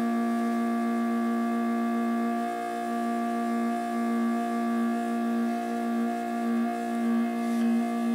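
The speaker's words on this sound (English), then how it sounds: "Turn pulse width up here." Sustained, rich buzzing tone from a Look Mum No Computer 1222 Performance Oscillator in a eurora rack with pulse width modulation turned up, with a slow, gently wavering timbre and steady loudness throughout, no talking.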